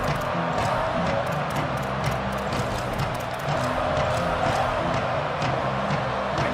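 A football stadium crowd cheering, a broad continuous roar of many voices with scattered claps and shouts, steady and loud throughout with no single voice standing out.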